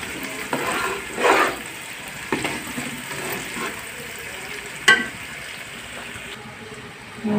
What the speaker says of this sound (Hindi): कढ़ाई में मैंने प्याज डाली है और सब्जी मिर्च हैं, प्याजों को अच्छी तरह भून लूँगी